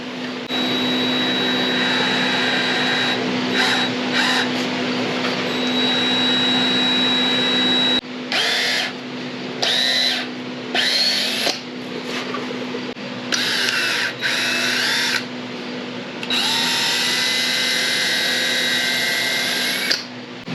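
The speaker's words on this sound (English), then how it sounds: "now I'm going to drill a hole straight through the middle" A power drill boring a hole through the middle of hockey pucks whines in repeated bursts, running steadily at first, then starting and stopping in short pulses with brief gaps between.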